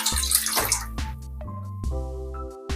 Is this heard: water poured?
yes